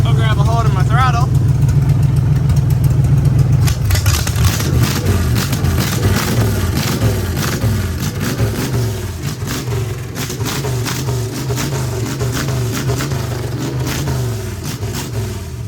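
A demolition derby car engine warming up from a cold start, idling low and steady before being revved repeatedly with rising and falling throttle bursts, loud and close, with a voice talking over it.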